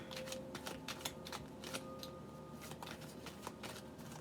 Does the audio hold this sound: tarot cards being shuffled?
yes